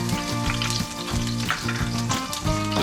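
Minced ginger, garlic and sliced onion fry in hot olive oil, giving a continuous close crackling sizzle under steady background music.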